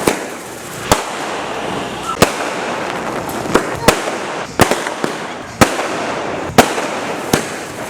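Firecrackers bursting during Diwali celebrations, about ten sharp, loud cracks at irregular intervals over a steady background din of distant crowd noise and voices.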